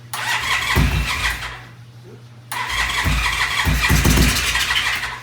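A gold motorcycle's engine on its first start attempt, cranking in loud bursts with a brief pause midway, while people talk nearby.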